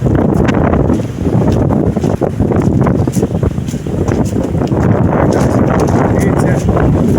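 Strong wind buffeting the microphone beside a stormy, rough sea with dirty water where swimming is banned, loud continuous roaring gusts and crashing surf with no pauses.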